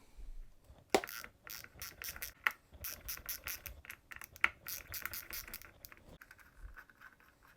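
Bolts come off a DeWalt bandsaw wheel in a series of close, irregular metallic clicks, ticks and scrapes, like a ratchet or wrench working, with brief pauses and no talking.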